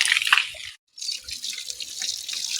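A garden hose sprays water while washing down a house, a steady hissing rush close by that cuts out briefly and then resumes.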